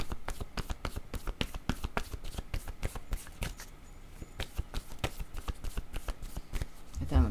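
A deck of playing cards is shuffled repeatedly, giving close, crisp riffling flicks and taps in a steady rhythm throughout.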